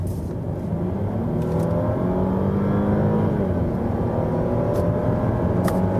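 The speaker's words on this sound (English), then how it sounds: "So let's do some acceleration from 60." An Audi A8 L long-wheelbase sedan in dynamic mode accelerates hard from 60, its engine drone swelling and rising steadily inside the cabin, with no talk.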